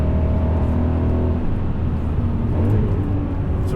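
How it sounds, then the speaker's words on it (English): BMW E39 M5 engine drones steadily through a Dynon exhaust, heard from inside the moving car as a continuous low rumble with a faint rising pitch and no talk. "The sound of the engine is fantastic out that Dynon exhaust."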